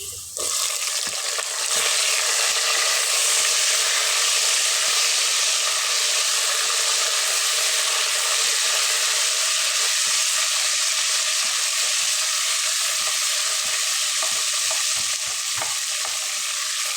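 Browning onion fries in a pan with garlic paste, making a loud, continuous, close sizzle with occasional stirring clicks throughout.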